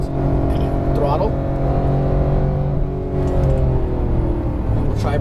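Porsche 911 GT3 991 accelerating at full throttle on a racetrack during a driving session, a loud engine note rising in pitch with an upshift, heard under a coaching voice.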